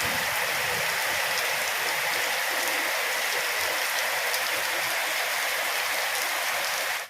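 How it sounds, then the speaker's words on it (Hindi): Heavy rain pours down in Dehradun in a dense, constant hiss, loud and unbroken throughout. "गाइस, ये देखिए कितनी तेज़ बारिश है।"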